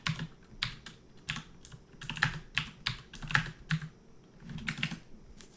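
A loud computer keyboard is typed on fast in irregular bursts of sharp, close clicks, with short pauses between flurries and no voices.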